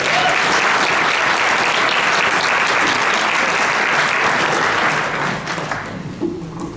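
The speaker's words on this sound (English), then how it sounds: "I'd like to have him have a round of applause" Audience at a town meeting gives a loud, sustained round of applause that fills the room for several seconds before thinning out near the end.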